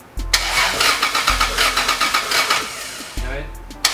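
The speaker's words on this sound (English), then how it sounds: "Let it go, just crank it." Toyota Supra MK4 engine cranking without catching, three bursts of rapid pulsing starter churn separated by short pauses, close and loud, with voices nearby.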